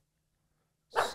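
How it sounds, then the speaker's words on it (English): A dog lets out a single loud, close bark at the end of an otherwise near-silent moment. "why is he barking?"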